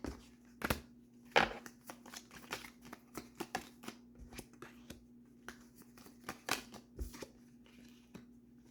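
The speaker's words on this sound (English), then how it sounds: "That's the only hard thing about this deck. It's freaking gigantic and it's hard to shuffle." Intermittent riffling and slapping of an oversized tarot deck being shuffled by hand, sharp irregular card snaps with quiet gaps between, close and fairly faint, with no talking.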